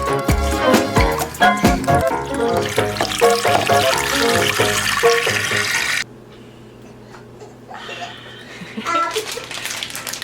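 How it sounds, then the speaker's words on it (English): Water pours and splashes into a pot of chopped mangoes for a Nicaraguan mango dessert, loud running water with clattering for about six seconds, then softer trickling, with voices talking over it. "just gonna put in water until it covers up the mangoes"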